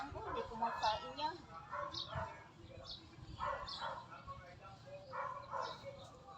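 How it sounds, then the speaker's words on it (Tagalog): A dog barks in short bursts during breakfast at a Philippine home, its yips and woofs mixed in with ongoing conversation. "Sugos nga yung aso na yun."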